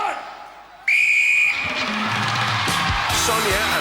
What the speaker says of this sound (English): Wait for the whistles, the line says.